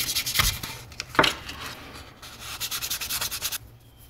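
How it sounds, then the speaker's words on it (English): Light sandpaper strokes rub back and forth over a carved wooden popping cork in short bursts, close up, with a quicker run of rhythmic scrapes toward the end. "to very gently sand over that just to even out the high and the low"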